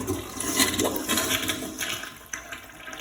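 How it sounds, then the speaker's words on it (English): A toilet flushes after a clog has been cleared with a plunger: a close, loud rush of water that swirls and drains over a few seconds, then tapers off. "gently remove the plunger, insert into a plastic bag so that way you don't have watery mess everywhere, and flush your toilet"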